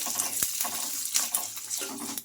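Curry leaves fry in hot oil with a busy crackling sizzle, joined by a few sharp pops and the scrape of stirring. It sounds close and moderately loud, with no talking.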